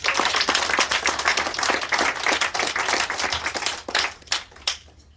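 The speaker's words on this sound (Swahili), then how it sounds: "Makofi kwake." Audience clapping for a supporter who provided lunch at a community gathering, a dense, steady applause of many hands that thins toward the end into a few scattered claps.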